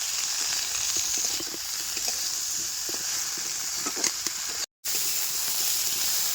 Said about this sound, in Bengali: আলু ফুলকপির সাথে পেঁয়াজ গাছটা এবারে ভালো করে আবার বাইজে নেবো